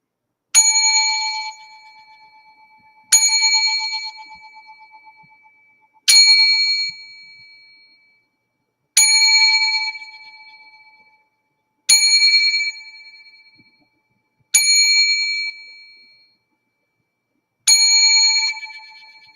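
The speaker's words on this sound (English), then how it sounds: "7 bells in memory of Dr. Ruth Westheimer" Seven bells ring in memory, spaced evenly about every two and a half seconds. Each bright, metallic ding rings close and clear and decays slowly in otherwise silent surroundings, with no talk.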